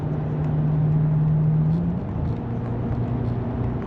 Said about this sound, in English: But you can really notice the misfire up here now.